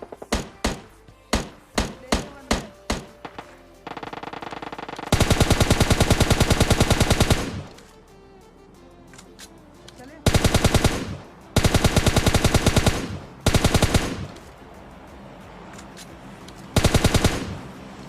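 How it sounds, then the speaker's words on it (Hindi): Gunfire in the mobile shooter game PUBG Mobile near a swimming pool: a quick series of single shots, then several loud, close bursts of automatic fire separated by short pauses. "स्विमिंग पूल के बाहर से किसी के गोली चलाने की आवाज आती है"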